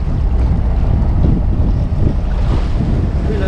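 Heavy sea swell and strong wind batter a fishing boat out on open water during a rough offshore trip, a loud constant roar of waves and wind buffeting the microphone with no voices.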